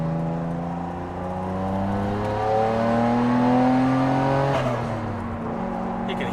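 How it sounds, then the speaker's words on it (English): A Nissan Skyline GT-R R33 with a tuned turbo engine revs up and holds high, with rising and falling harmonic tones and turbo whine, then drops away near the end. "You can hear that turbo"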